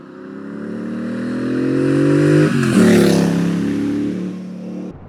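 A 2023 Triumph Bonneville Bobber motorcycle passes at speed through the countryside, its engine swelling from a distant drone to a loud, close roar, dipping in pitch as it goes by, then fading.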